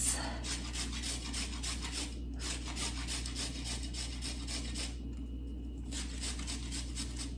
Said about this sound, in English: I'm just going to grate on one side a little bit